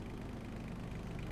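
A small sheep-farm tractor engine idles in a low, steady rumble, close and even, with no other sound over it.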